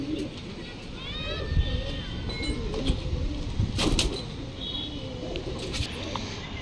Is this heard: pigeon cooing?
yes